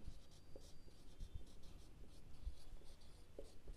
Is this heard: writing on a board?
yes